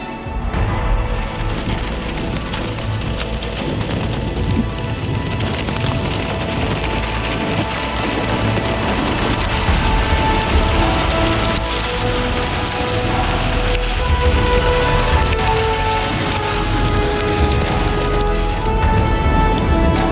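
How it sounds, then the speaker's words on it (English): Hail falls in a dense, unbroken rattle on a mountain road above Los Angeles at about 4,000 feet, drumming loudly and evenly throughout with no voices. "then it started to hail"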